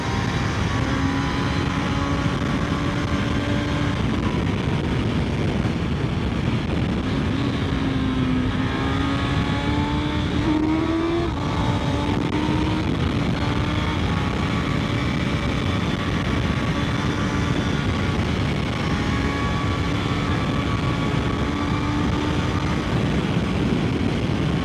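A Suzuki GSX-S 1000 GX motorcycle engine pulls hard and loud for a long stretch, its droning tone climbing in pitch as it accelerates, with steady wind and road noise and no voices.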